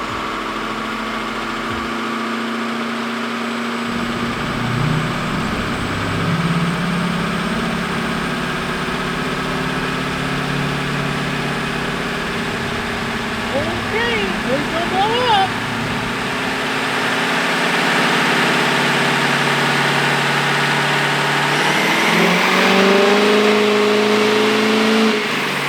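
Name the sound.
Ford Powerstroke diesel truck engine revving on dyno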